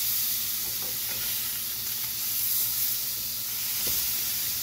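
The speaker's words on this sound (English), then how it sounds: "So we'll go ahead and just flip these over." Steaks sizzle and spit in a hot pan, a steady bright hiss with a few small pops and crackles as they are turned, no talking.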